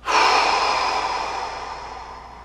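One deep, slow breath during a guided calming exercise, a loud, close, airy exhale that starts abruptly and tapers gradually over a couple of seconds, with no talk over it.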